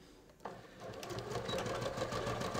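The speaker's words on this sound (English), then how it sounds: "I'm going to sew along my final answer seam." Sewing machine running steadily along a seam on ready-to-wear pants, starting after a brief pause and continuing as a close, even mechanical whir without speech.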